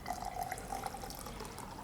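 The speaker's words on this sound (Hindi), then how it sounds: "इसके ऊपर आप कुनकुना गर्म पानी डालें।" Lukewarm water poured over about a teaspoon of ginger for a home remedy, a steady close trickle running alone for a couple of seconds.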